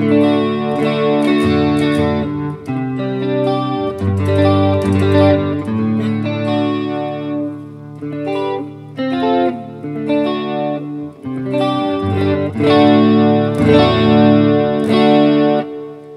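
An electric guitar on its neck pickup, a Leo Jaymz Single Cut Deluxe, plays a warm, rounded passage of chords and single notes, loud and close, with a soft chorus-like shimmer and no talking.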